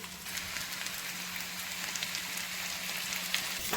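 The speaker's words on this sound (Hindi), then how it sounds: "इसको आप तकरीबन 3 से 4 मिनट तक इसी तरह फ्राई कीजिए।" Parboiled potatoes fry steadily in a hot pan for a masala aloo curry, giving a continuous close sizzle and crackle with a faint low hum underneath and no voices.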